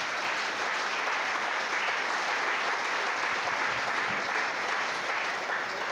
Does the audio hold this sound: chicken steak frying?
no